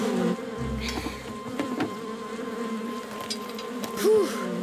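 Bees buzz around a beekeeper in an animated cartoon scene, a sustained droning hum with a rising and falling buzz near the end, set under background music and sound effects.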